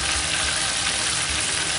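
Chicken pieces fry in hot oil with a loud, dense, continuous sizzle that stays steady from start to finish, with no voices.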